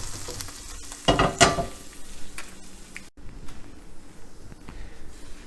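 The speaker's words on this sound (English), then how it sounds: "the sauteed onion" Sautéed onions sizzle and fry in a pan alongside a ribeye cooked in clarified butter, with a steady crackle, a louder burst of stirring early on, then a softer continuous sizzle.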